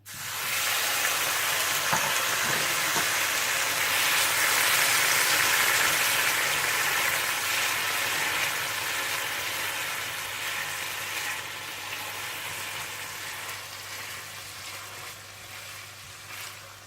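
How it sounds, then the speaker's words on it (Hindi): Pineapple pieces fry in a pan with a steady, loud sizzle and crackle, continuous and close, easing slightly softer toward the end; no voices. "फिर इसी पैन में आप अनानास को फ्राई करके निकाल लीजिएगा।"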